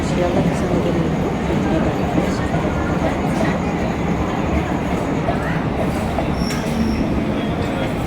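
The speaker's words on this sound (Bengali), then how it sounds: "এটা যাচ্ছে কৃষ্ণনগর শিয়ালদা লোকাল" A Krishnanagar–Sealdah local train passes a station platform with a loud, steady roar of wheels and carriages and occasional metallic squeals, filling the whole stretch.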